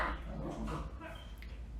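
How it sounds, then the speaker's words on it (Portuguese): A neighbour's dog barks and whimpers at an apartment door, faint and brief, partly masked by a talking voice. "É a Julie brigando com o cachorro do lado, na porta."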